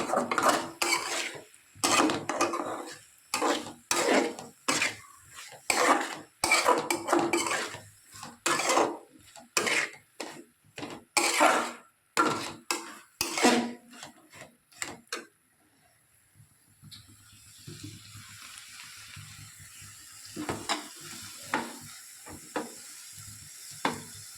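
Banana flower and potatoes are stirred in a pan with a rapid series of sharp metal-on-pan clanks and scrapes for about fifteen seconds. A softer frying sizzle with a few light knocks follows.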